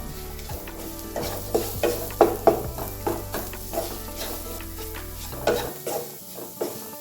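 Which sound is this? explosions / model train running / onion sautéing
onion sautéing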